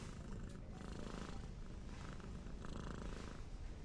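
A steady, continuous cat purr, close and rumbling, with no pauses or other sounds over its length.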